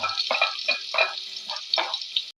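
Chopped onions dropped into hot coconut oil in a pan, a loud, bright sizzle with repeated bursts of crackling and hissing as they fry, close and steady.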